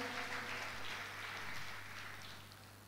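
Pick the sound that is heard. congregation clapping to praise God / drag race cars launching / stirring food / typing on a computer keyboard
congregation clapping to praise God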